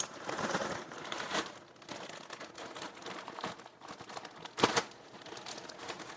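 A plastic bag of noodles crinkling and rustling steadily as it is handled up close, with one louder crackle near the end.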